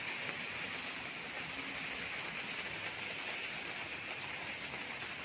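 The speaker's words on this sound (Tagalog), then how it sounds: "ulan, grabe ang ulan" Steady, dense rain pours in Riyadh, Saudi Arabia, a loud even hiss that holds without a break throughout, with no voices over it.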